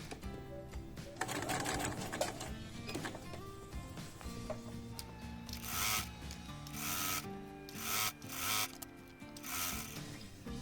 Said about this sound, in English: bring this down and start sewing again